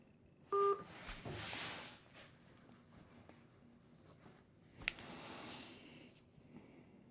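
A short pair of telephone keypad dialing tones sounds once from a phone early on, clear but brief, followed by quiet room noise and faint handling clicks, with no voices.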